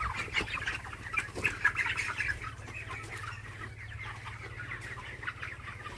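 A chicken clucks repeatedly on a poultry farm while suffering from a cold, its short calls near and fairly loud over a steady low background hum.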